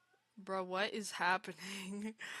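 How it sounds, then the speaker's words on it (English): A pet cat meows nearby in a room during a Minecraft game stream. There are a few drawn-out, tonal meows, and a person speaks over and between them. "That's my cat in the background."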